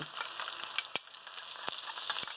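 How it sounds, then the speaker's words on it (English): Stir-fry sauce hitting a hot wok of pineapple fried rice over high heat, giving a steady close hiss with scattered crackles and a few sharp scraping clicks of stirring. "You should start to hear the wok really sizzle when you put this in."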